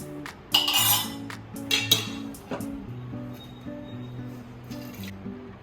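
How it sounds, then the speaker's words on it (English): Water drained off boiled sprouts through a metal vessel: clinks and scrapes of pot and utensil over a soft trickle and drip, with a low hum throughout, close and moderately loud, no talking. "I'll put off the flame and I'll drain this out."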